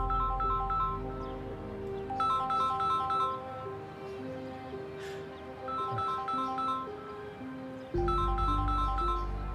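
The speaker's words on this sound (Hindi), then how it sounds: "सलीम, फोन उठाओ ना, क्यों नहीं उठा रहे?" Phone ringing with a melodic ringtone, a repeating electronic tune playing in phrases at moderate volume, stopping briefly and then starting again, alone without talk.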